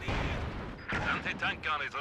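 An ML-20 artillery barrage in the video game Company of Heroes 2 sounds as several booming blasts and crackling impacts in quick succession, loud and dense, with a voice talking underneath.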